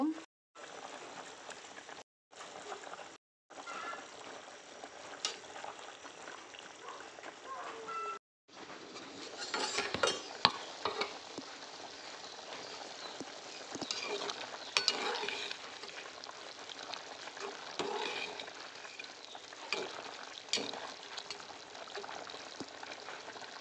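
Fish dropped into boiling curry, followed by steady sizzling and bubbling close up, with brief dropouts early on, stirring noises and some faint talk and birds in the background.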